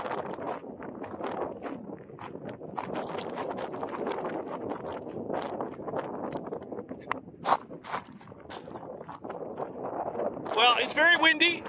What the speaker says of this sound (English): I hope you can hear me over the wind noise.